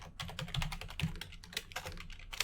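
Rapid, steady keystrokes clatter on a computer keyboard up close, a continuous run of light clicks with no talking.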